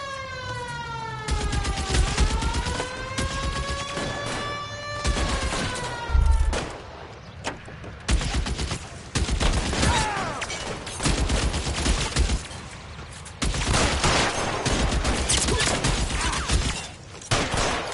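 Gunfire rattles in rapid bursts during a shootout in L.A. Noire, loud and dense, over a wailing police siren that rises and falls early on, with repeated volleys continuing to the end.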